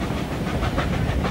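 Steam locomotive 3801 rolling along the rails on an outback tour to Alice Springs, giving a loud, steady rumble with a faint repeating clatter and hiss throughout, close by and with no voices.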